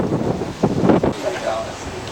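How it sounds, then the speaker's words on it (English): Wind gusting across an open field at an outdoor scale model aircraft show, a steady rushing buffet on the microphone with a few stronger surges, mixed with faint voices talking nearby. "we've decided to call it quits because of the wind"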